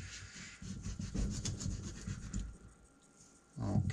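A hand saw cuts through a coconut shell, a series of quick rasping strokes up close that scrape rhythmically, pause, then resume with a louder stroke at the end.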